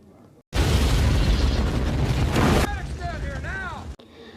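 A building blows apart in a film action scene: a sudden loud explosion erupts and roars as a broad, sustained rumble, then gives way to rising and falling tonal whooshes or debris sounds before cutting off abruptly.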